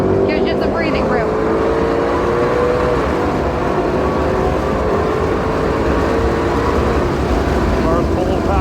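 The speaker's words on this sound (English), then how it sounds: "Car's pulling power." A 2020 Shelby GT500 engine roars steadily at high revs on the Circuit of the Americas straightaway, loud and close with a continuous droning pull and rising pitch, a voice briefly audible over it.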